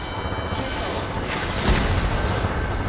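Heavy bomb blasts from an aerial bombing run in the Ace Combat 7 video game, a dense wall of rumbling explosions and booms that swell partway through, with game chatter mixed underneath.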